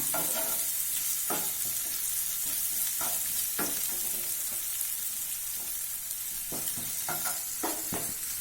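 Onions sauté over medium flame in a pan for a capsicum boiled egg fry, a continuous close sizzle broken by repeated scraping stirs of the spatula, with no voices.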